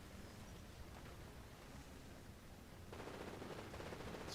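Tank gunfire from a Chaffee light tank in the real-time modern wargame Iron Conflict, a steady wash of noisy battle din with scattered shots that swells louder for the last second and a half.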